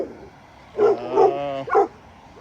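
Philly, a big dog, lets out three deep, loud barks in quick succession close by, with quiet surroundings before and after.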